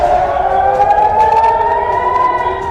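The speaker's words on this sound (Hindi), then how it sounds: "बहरीन में सायरन की आवाजें सुनाई दे रही हैं।" Air raid sirens in Bahrain wail loud and close, a steady rising tone held without a break, with no speech.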